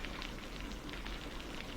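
Rain falling on a surface behind a horror audio story set on a rainy night, a soft, even patter throughout with no voice.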